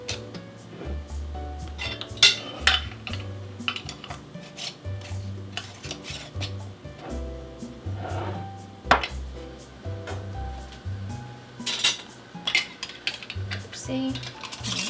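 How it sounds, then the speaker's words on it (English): Metal canning rings being screwed finger tight onto glass jars of peach corn salsa, with repeated scraping twists, clinks of metal on glass and jars sliding on a counter, close and moderately loud, no talking. "we will put the rings on finger tight, which is when the jar starts moving on its own, that's finger tight"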